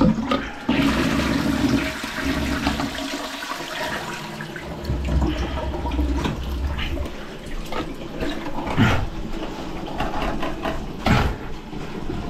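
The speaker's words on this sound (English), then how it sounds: "Flush it." A blocked toilet is flushed up close, a loud rushing and gurgling surge of water that churns steadily for several seconds with occasional knocks and clunks.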